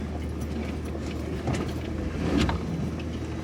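Ford F-150 pickup truck with tires aired down to about 21 PSI spins its wheels on an off-road trail in two-wheel drive, a steady low engine rumble swelling briefly around the middle and later, with wind noise and no talk.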